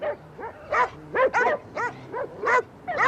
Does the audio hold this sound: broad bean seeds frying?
no